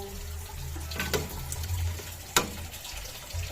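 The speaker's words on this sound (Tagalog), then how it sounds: "Lagyan natin ng sabaw daming sabaw." Broth pours into a pot of chicken sinigang with jackfruit, a soft watery splash with a couple of sharper splashes, close and moderately loud.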